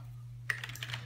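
Typing on a computer keyboard in a home gaming setup, a quick run of light key clicks starting midway, close and fairly quiet over a steady low electrical hum.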